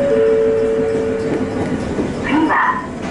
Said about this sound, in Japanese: 近江鉄道の電車が発車しました。